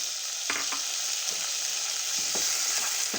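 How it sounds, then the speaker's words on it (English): Chopped tomatoes sauté with onions in a hot pan for egg bread poha, giving a constant loud sizzle. A few soft spatula scrapes and taps come through as the mixture is stirred. "now I'll be adding my chopped tomatoes"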